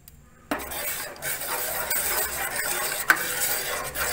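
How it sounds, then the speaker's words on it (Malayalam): A spoon stirs a homemade custard mixture in a pan over low heat as it thickens, giving steady close scraping and swishing with a faint sizzle and one sharp clink of utensil on pan. "ഇനി ഇതൊന്ന് നമുക്ക് നന്നായി ഇളക്കി കുറുക്കിയെടുക്കാം."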